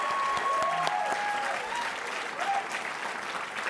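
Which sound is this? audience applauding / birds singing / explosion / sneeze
audience applauding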